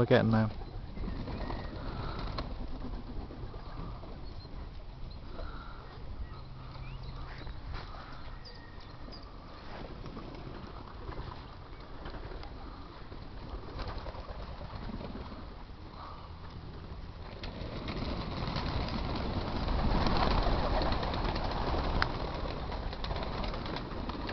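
Racing pigeons at a one loft race coo softly and steadily through a continuous murmur of birds in a loft, with a bit more bustle toward the end; background noise fills the whole stretch.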